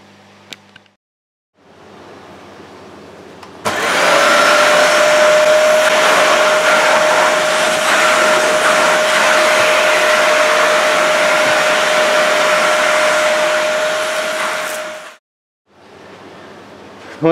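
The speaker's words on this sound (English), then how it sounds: "I'm going to hoover the cushions and everything thoroughly" A Numatic George vacuum cleaner hoovers sofa cushions, switching on abruptly into a loud, steady roar with a constant whine that holds for about eleven seconds before cutting off.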